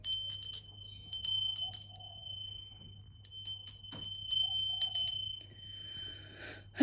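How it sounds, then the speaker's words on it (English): A small bell rings in several clusters of bright, clear strikes with quiet gaps between them, each ringing briefly against a near-silent background. "Let's clear the air with a bell."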